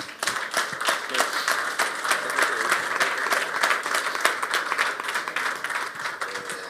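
Audience applause at the Balkan Sommelier Challenge 2022 finals, a steady, dense clapping from a seated crowd that holds at an even level throughout without letting up.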